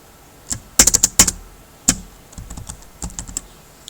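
Someone is typing code for a C++ switch statement on a computer keyboard, with crisp close key clicks in quick bursts followed by a sparser run of taps.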